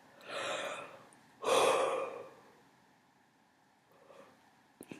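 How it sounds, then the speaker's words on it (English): A person yawns twice, long breathy exhalations, the second louder and more drawn out, close and quiet, followed by faint breathing and a small click. "I'm sorry I keep yawning."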